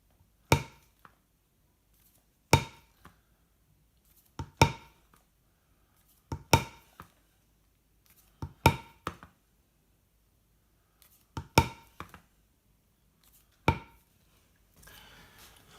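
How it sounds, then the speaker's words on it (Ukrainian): Seven sharp, loud strikes spaced a second or two apart, each a hard thud with a brief ringing tail, as leather is stamped on a concrete slab, close by with quiet between hits. "на плиті, якщо робити тиснення, буде не так гучно"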